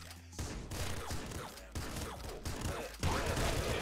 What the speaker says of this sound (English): Oh, you've decided to fire off a ton of missiles as well.